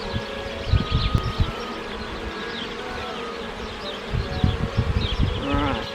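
Honey bees buzz steadily around an opened beehive during a foulbrood check, a close, continuous droning hum with individual bees whining past the listener.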